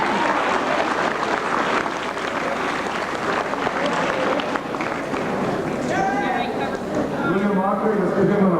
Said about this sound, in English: Let's give him an applause for his praiseworthy achievement also in CWE.